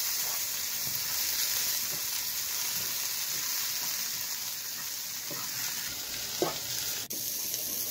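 Grated coconut and green chillies fry quietly in a pan for cabbage leaf thoran, giving a faint steady sizzle with a few soft scrapes and taps as the mixture is stirred, and no voices.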